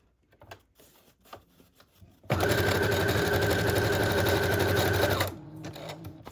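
A sewing machine runs in one steady, loud burst for about three seconds, stitching a strip of lace down in an L shape to form a pocket on a junk journal page, with quiet handling sounds before and after.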